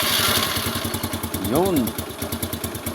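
A motorcycle engine idles near and steady after a cold start, its rapid regular putter running throughout while someone speaks briefly over it.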